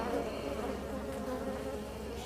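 Honeybees from a caught swarm buzz agitatedly in an opened hive with propolis-laden frames, a dense continuous hum close by and fairly quiet, with no talking.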